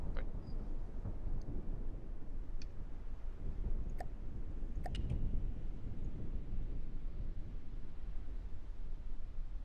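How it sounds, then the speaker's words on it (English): Thunder from a storm rolls as a low, continuous rumble for several seconds, swelling near the middle, with a few faint sharp clicks on top. "Oh wait, that was a storm, never mind."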